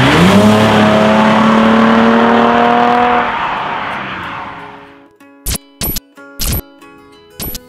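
Mercedes SL350 roadster accelerating hard, engine note rising in pitch through the gears and then fading out, followed by a few sharp clicks or knocks in a quiet space.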